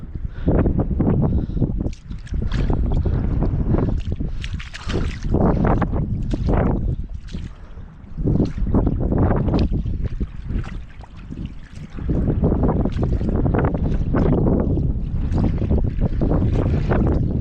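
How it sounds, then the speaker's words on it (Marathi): Strong wind buffets the microphone in loud, roaring gusts that surge and ease repeatedly, with brief quieter lulls between blasts, during mud crab catching on a coastal mudflat. "वारा खूपच आहे"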